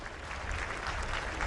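A crowd claps steadily at Ramkatha Park during President Ramnath Kovind's visit to the Ramayana Conclave, a brief burst of dense applause at moderate distance.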